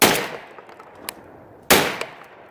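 Two loud, close shotgun blasts from a Tristar Raptor semi-automatic, roughly 1.7 seconds apart, each with a sharp crack and a fading echo, followed by small metallic clicks of the action cycling shells.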